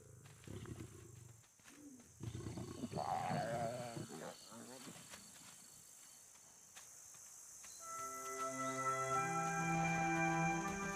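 Lions roar among buffaloes, kudus, elephants and giraffes gathered near water in the wild, deep rumbling calls rising over insect and animal noise, later giving way to sustained tonal sounds, with speech heard at times.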